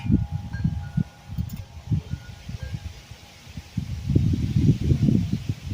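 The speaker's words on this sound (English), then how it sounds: "it has gotten very windy out here now" Strong wind buffets a microphone outdoors in heavy low rumbling gusts, rising and falling and swelling louder near the end.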